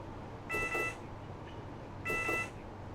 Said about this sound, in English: obviously got the signal buzzer on here too